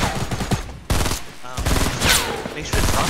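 Gunfire in a battle-royale video game, with several loud, sharp blasts separated by short gaps and a dense burst near the end. A voice talks over part of it.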